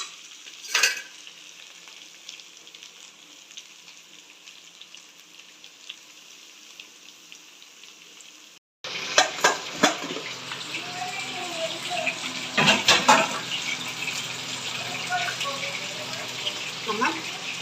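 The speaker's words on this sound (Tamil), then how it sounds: "வெங்காய கறி ரெடி. இன்னும் கூட கொஞ்சம் வதங்கட்டும்." Onion chicken curry sautés in a pan, starting as a quiet simmer, then bursting into a louder, steady sizzle with a few sharp stirring clatters against the pan.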